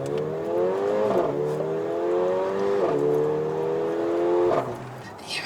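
A Mercedes-AMG GLA45 engine revs up in repeated climbing pulls, each broken by a quick gear change before rising again. The tone is loud and close throughout.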